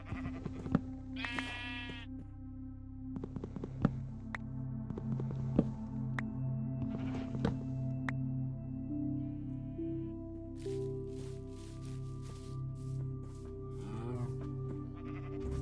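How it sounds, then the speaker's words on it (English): Sheep bleat in the video game Minecraft, several distinct nasal bleats over a steady soft background tone with occasional clicks and game sounds. "Got a cow here and a sheep."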